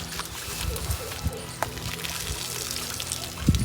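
Warm water is poured out close by, splashing and trickling unevenly with a few sharper splashes.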